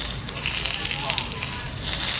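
Hot oil poured over steamed salmon with bok choy hisses and crackles in a steady, close sizzle that fills the whole moment, with a voice speaking over it.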